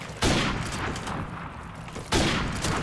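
Airstrike explosions in Call of Duty Modern Warfare Remastered, two loud booming blasts about two seconds apart, each followed by a rumbling, crackling tail of gunfire-like noise.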